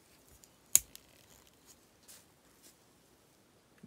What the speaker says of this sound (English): Ab crunch, good clicking action there.